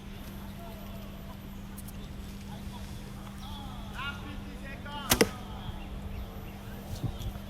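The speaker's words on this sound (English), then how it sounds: "we'll try to do one more arrow just to see how it holds up." An arrow strikes a homemade 3D duck target made from expandable foam, giving one sharp, close thwack around the middle, with a soft voice speaking before and after.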